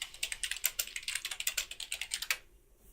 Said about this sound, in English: My keyboard sucks.